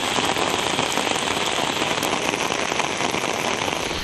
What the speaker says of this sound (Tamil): பலத்த காற்றுடன் மழை பொழிந்தது